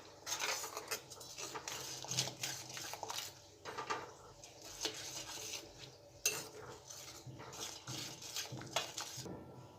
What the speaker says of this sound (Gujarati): સરસ મિક્સ કરી લઈશું